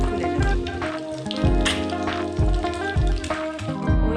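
Whole spices sizzle lightly in hot oil in a pan, a steady crackle interrupted by soft rhythmic knocks from stirring or handling.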